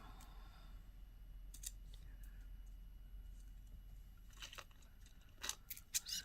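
Metal jewelry chain is snipped for a necklace with small cutters, giving a few quick, crisp clicks and snips, close and quiet, rising toward the end.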